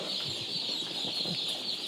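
Dense chorus of high-pitched broiler chick peeping on their first day at a poultry farm, continuous and overlapping, with faint low clucks and shuffling underneath, moderately distant.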